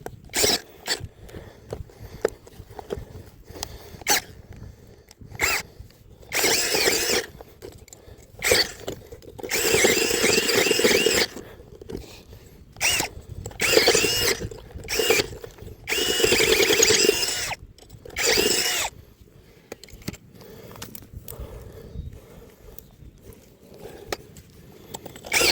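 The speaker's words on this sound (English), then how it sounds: "There's a rock in there, and that's why the drill keeps stopping." Power drill boring into rocky ground while setting traps, whirring in repeated bursts that stall and cut out abruptly on rock, with ratcheting clicks and short pauses between attempts.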